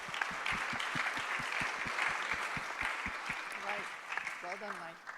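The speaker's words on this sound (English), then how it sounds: "Give a round of applause, please," An audience at a faith-based affordable housing meeting gives a round of applause, fairly quiet and steady for about five seconds, with a voice speaking briefly near the end.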